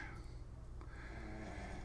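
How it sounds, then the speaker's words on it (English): Dogs snore quietly and steadily close by, a soft rasping, rumbling breath sound running continuously through a short stretch with no talk. "as our dogs snore"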